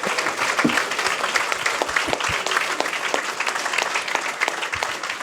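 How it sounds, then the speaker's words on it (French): An audience applauds at a closing ceremony, a steady dense wash of clapping lasting throughout, fairly close and even in loudness, with no voices over it. "applaudissements pour cette personne"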